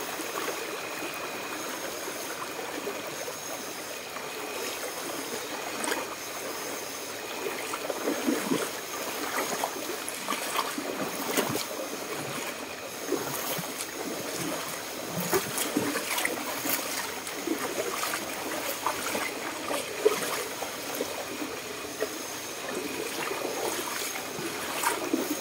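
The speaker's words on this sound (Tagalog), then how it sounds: "Ang lakas yung tubig" Strong river water rushing steadily along the Lipit river, a dense continuous roar of flowing current with small splashes and gurgles, close and loud throughout.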